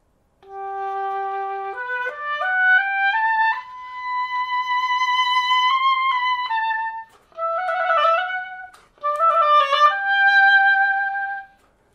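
A solo oboe plays a Ferling etude number 5 phrase, a rising line of clear sustained notes with short pauses for breaths between phrases, close and unaccompanied.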